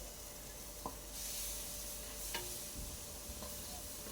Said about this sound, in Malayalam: എല്ലായിടത്തും മസാല ഒരുപോലെ ആകുന്ന വിധത്തിൽ സവോളയും തക്കാളിയും പച്ചമുളകും എല്ലാം പേസ്റ്റ് പോലെ ആകുന്ന വിധത്തിൽ നമ്മൾ വഴറ്റുക